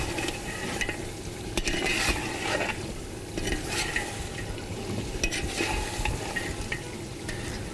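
Masala stir-fried for peas pulao, a steady close sizzle with frequent scraping stirs of a spatula against the pot, continuous and fairly loud with no talking.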